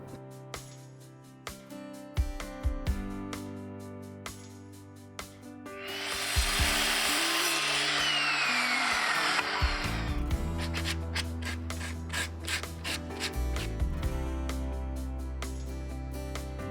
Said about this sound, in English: First I need to cut a whole lot of lumber to size.